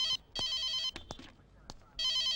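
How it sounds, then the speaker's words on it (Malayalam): A telephone rings in loud electronic bursts, one short ring, a longer ring, then another starting after a pause, with quieter shuffling sounds between rings in an indoor movie scene. "ഫോൺ."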